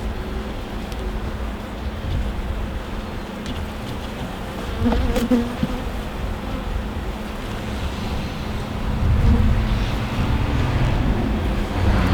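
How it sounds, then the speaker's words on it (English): Honey bees drone at an open hive during a pre-winter check, a dense continuous buzz close by, swelling slightly at moments, with no speech. "You can see the bees are putting the syrup around here"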